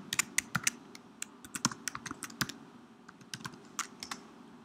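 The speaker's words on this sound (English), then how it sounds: "So go ahead and type that in." Keys clatter on a computer keyboard as a login ID is typed, with irregular clusters of crisp, close taps and brief pauses between them, no voices.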